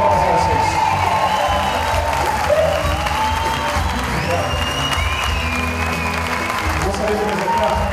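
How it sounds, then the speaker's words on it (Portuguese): A large audience at a live stage show with a band claps and cheers loudly and continuously, with whoops and shouts mixed into dense, sustained applause throughout. "Uma salva de palmas a vocês."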